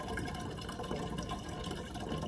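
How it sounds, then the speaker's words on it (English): Water is poured into a glass Erlenmeyer flask on a homebrewing day, giving a faint, steady splashing fill that continues without pause. "I'm gonna add the water back to the Erlenmeyer flask"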